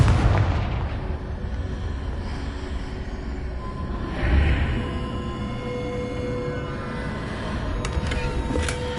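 A Confringo spell blasts in Hogwarts Legacy, an opening boom followed by a rumbling roar and a second swell of blast noise, with game effects ringing out toward the end and no talk.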